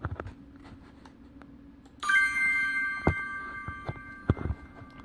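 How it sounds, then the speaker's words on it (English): A bright synthesized two-tone chime rings out and sustains with a shimmering tail, over faint background clicks and room noise. "This here's a number up here chime sound I created."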